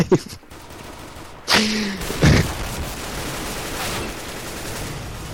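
Gunfire in Counter-Strike: Global Offensive, Arms Race mode: a few sharp, loud shots and bursts land in quick succession over a steady game-noise bed, with a brief voice faint in the background.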